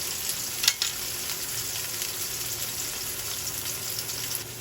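Ingredients for ginisang monggo, including tomato, sautéing in a pan: a close, steady hiss of frying with a brief clink near the start and faint scattered crackles throughout.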